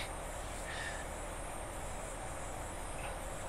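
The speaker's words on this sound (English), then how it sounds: "I love that noise when you hear the train going round the corner." Train rumble in Train Simulator 2018 on the Carlisle to Glasgow route as it rounds a corner, a steady low drone with a faint squeal of wheels on the curve, continuous and unbroken.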